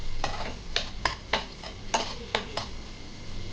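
Grated carrot frying with onion in a pan for baby upma, stirred in a quick series of sharp scraping strokes against the pan over a faint low sizzle, close and fairly quiet, with no speech.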